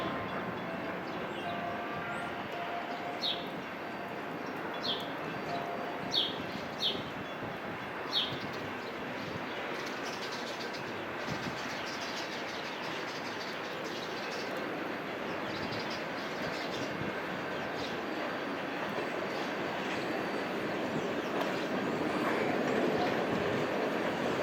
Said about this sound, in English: the Huron and Eastern, now designated as train number 702, begins their reverse departure move on the Port Huron Y